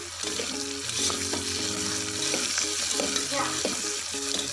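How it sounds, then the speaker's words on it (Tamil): Three chillies sizzle and crackle steadily in hot oil in a pan, with stirring clinks on top, close and continuous with no talk. "இப்போ நம்ம சில்லி ஆட் பண்ணிக்கலாம்."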